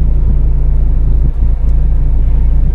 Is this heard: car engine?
yes